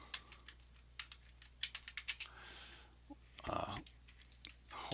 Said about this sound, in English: then you can type something in here